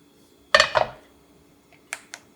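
An egg frying pan is set down on a stove, giving a sharp metallic clatter and ringing clink up close, followed moments later by two lighter taps in a quiet kitchen.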